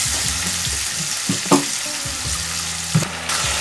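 A paste of onion, ginger, garlic, chili and cumin frying in hot oil, giving a loud continuous sizzle with a couple of brief scrapes from stirring.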